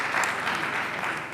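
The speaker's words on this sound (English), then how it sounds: "Please, can we give me a round of applause?" A group of teachers at a capacity-building workshop gives a round of applause, a steady, dense patter of clapping throughout that swells slightly at the very end.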